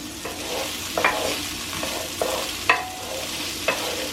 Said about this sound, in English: And then we're going to go ahead and give that a toss.